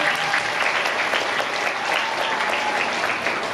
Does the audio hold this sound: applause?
yes